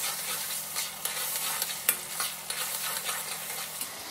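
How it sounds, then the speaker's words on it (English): Garlic, three heaped teaspoons, hits a hot pan for a sea bass curry, giving a steady close sizzle with soft stirring scrapes throughout and one sharper clink near the middle, no voices. "I'm gonna add some garlic now."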